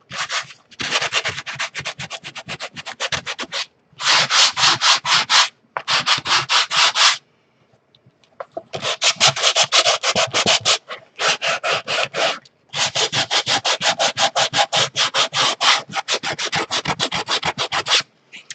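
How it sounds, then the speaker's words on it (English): Coarse sandpaper scrubbing across wood in long bursts of rapid back-and-forth strokes, loud and close, broken by short pauses. "This is really coarse sandpaper, by the way."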